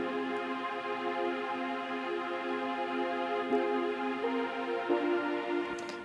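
Sustained synth pad played in Logic Pro X, a steady, narrow-sounding harmonic drone with rich overtones that holds one chord and shifts slightly in pitch, with no voice over it.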